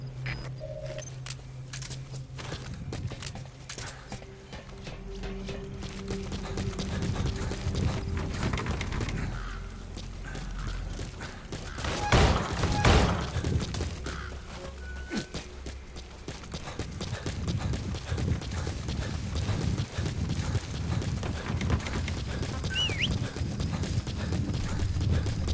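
Horse hooves clip-clop steadily in a video game, a rhythmic thudding gait that builds and continues under ambient game sounds and occasional jangling tack.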